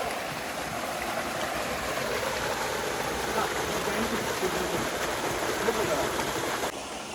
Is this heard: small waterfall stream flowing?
yes